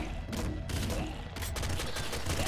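Rapid gunfire from a weapon in the video game Nuclear Throne, with its Ultra Mod, comes as dense, loud bursts of overlapping shots with brief dips between volleys.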